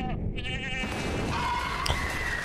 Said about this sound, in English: It's probably the goat.